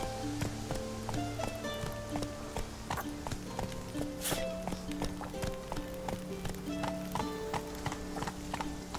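Horse hooves clip-clop at a steady riding rhythm in The Witcher 3, moderately near, under game music and ambient background.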